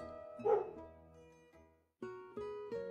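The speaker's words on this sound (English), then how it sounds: "He barked and barked as the gingerbread baby climbed over the wall." A single short dog bark in a read-aloud of the children's book Gingerbread Baby sounds over soft, sustained musical tones, followed by a few plucked notes.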